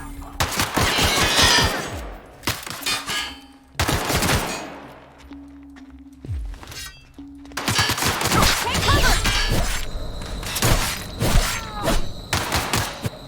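Gunfire in the video game The Outer Worlds comes in dense, loud bursts of rapid shots and thumps, separated by brief lulls, with a voice calling out between volleys.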